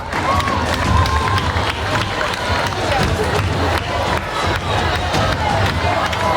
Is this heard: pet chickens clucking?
no